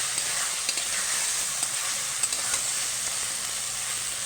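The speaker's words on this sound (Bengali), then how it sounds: "মশলাটা আমার কষিয়ে নিয়ে আমি যতক্ষণ তেল ছাড়বে ততক্ষণ কষিয়ে নেব।" Spice paste sizzles and fries steadily in oil in a pan, with faint scraping of stirring throughout, close and continuous with no voices.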